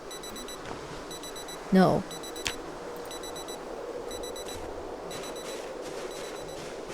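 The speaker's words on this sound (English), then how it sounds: "one of you has an alarm set" A metallic dress-style wristwatch alarm in Project Zomboid beeps in repeated rapid bursts, thin and high, steady in the background while a voice speaks briefly and a short loud thump cuts in.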